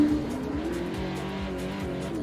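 A race car entering turn 1 at the Kalgoorlie circuit, its engine note droning steadily with repeated rising pitch sweeps as it brakes and shifts through the corner, heard at moderate distance with faint tyre noise.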